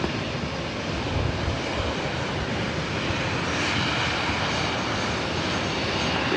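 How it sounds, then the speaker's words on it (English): A Boeing business jet taking off from the south side of LAX, a loud sustained broadband engine roar that holds steady throughout, with no voices. "It's a Boeing business jet taking off there on the Southside."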